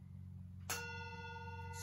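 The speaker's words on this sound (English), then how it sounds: "When the gong goes" A gong is struck once during a yin yoga class, a sharp attack that blooms into a long, steady ringing with sustained overtones, rising over a continuous low hum that runs throughout.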